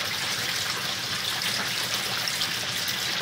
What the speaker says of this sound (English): Now what's still draining is just water that's in the pipe.